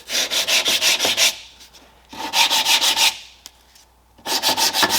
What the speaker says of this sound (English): I like to take a sanding block and just